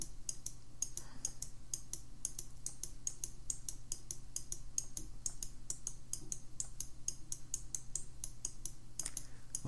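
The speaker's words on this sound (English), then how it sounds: "Click and drag and bring that out." Rapid, close clicking of a computer mouse while dragging in GIMP image-editing software, quiet taps in irregular bursts over a faint steady hum.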